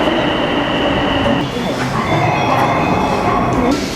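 A subway train in a Tokyo station rumbles loudly and continuously nearby, with a brief high wheel squeal and a shift in tone midway as the cars move along the platform.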